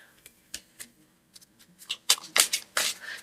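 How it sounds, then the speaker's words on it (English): Decks of cards riffle and snap in quick bursts, starting with a few soft taps and building to louder, dense shuffles near the end. "I shuffle the decks"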